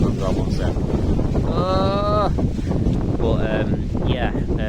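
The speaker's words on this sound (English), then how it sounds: "it is really windy today" Heavy wind rumbles against the microphone throughout while a person talks over it.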